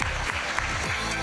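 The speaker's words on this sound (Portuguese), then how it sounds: "Uma salva de palmas para as duas meninas" A short burst of audience applause for two girls on a television show stage, dense clapping heard up close with a voice talking over it.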